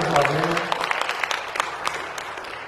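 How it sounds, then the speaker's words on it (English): A church congregation gives a round of applause during a sermon, a lively burst of many hands clapping that gradually thins out, with a voice briefly heard near the start. "Give her a round of applause, man."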